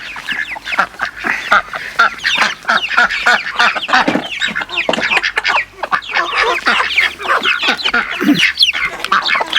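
Farm chickens cluck and squawk continuously and close by as they follow someone carrying leftover food scraps out to them, a busy overlapping chorus of short calls with no talking.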